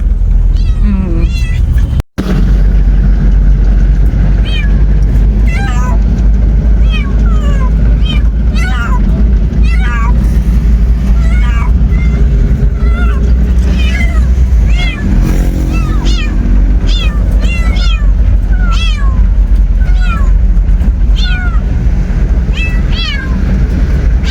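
Several cats meow loudly and repeatedly over a steady rumbling vehicle engine, with a short sharp knock near the start and people talking at times.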